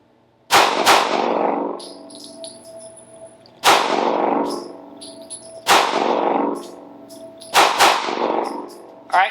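Gunfire at a defensive shooting range: four loud, sharp reports spaced about two to three seconds apart, each ringing into a long decaying echo, with faint metallic clinks between shots.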